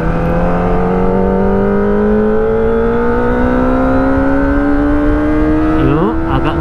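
A Kawasaki ZX25R motorcycle accelerates steadily and loudly, its engine whine climbing in pitch through the gears and then briefly dropping near the end, with the rider chatting over it.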